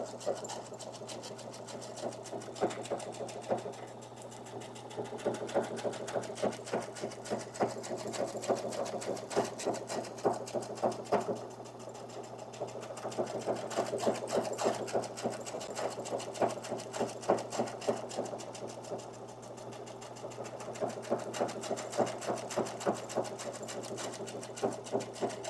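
A Brother sewing machine stitches with variegated thread in a steady, continuous run of rapid needle clatter and motor hum, close and even for the whole stretch, with no one talking.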